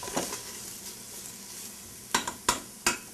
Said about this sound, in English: Next we're going to add the chicken. Stir it up.